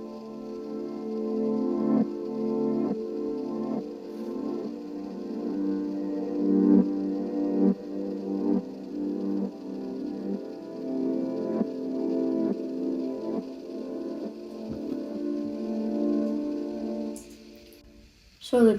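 A reversed chord progression with tremolo and Valhalla Supermassive reverb swells through a wide, washy pad whose sustained tones pulse steadily, then cuts off abruptly near the end.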